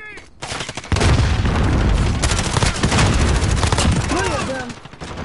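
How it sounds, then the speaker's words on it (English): A grenade blast in the Call of Duty Warzone video game, a loud, close, sustained roaring burst with rumbling debris, mixed with gunfire and tailing off over several seconds while players talk. "Grenade out. Throwing grenade."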